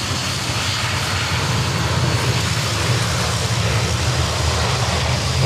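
Dash 8 turboprop aircraft at Sydney Airport, a steady broad engine roar holding at even loudness throughout, with a low droning hum underneath and no talk.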